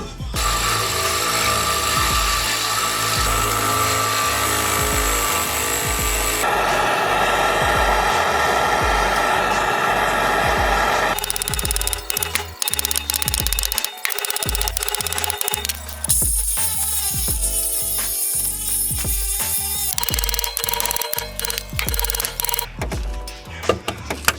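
A reciprocating saw buzzes loudly and continuously, cutting through a rear trailing arm bushing on a Honda Civic or Acura Integra, its pitch shifting as it cuts, with rhythmic chattering strokes toward the end.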